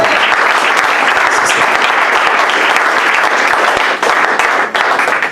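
A church congregation claps and applauds for Jehovah in loud, dense, sustained applause that tapers off slightly near the end.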